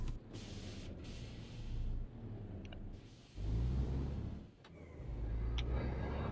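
Truck in a survival role-play video game drives along with an engine hum that swells and dips, a few rattles and clicks in between, moderately close.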